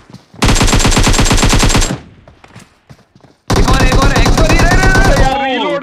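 Sustained automatic gunfire in PUBG Mobile comes in two loud, rapid bursts separated by a short gap, and a voice speaks faintly between them.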